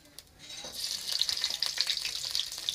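Black cumin seeds and garlic cloves dropped into hot oil for a bottle gourd leaf mash, breaking into a bright, dense crackling sizzle that swells within the first second and stays loud and close.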